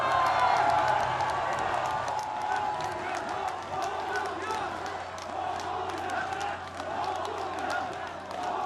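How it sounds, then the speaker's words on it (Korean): A large crowd at a homecoming greeting for President Roh Moo-hyun cheers and applauds loudly and steadily, a dense wash of clapping and shouting voices that holds for the whole stretch. "오늘의 주인공이신 노무현 대통령님께 다시 한번 뜨거운 함성과 박수"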